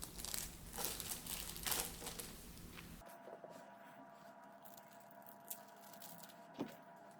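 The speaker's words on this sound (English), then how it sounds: "I'm going to get this out of the plastic" Plastic packaging crinkles loudly and steadily for about three seconds as a Hogan Wings Aerologic 777-200 model airplane is unwrapped, then gives way to faint rustles and a couple of small taps.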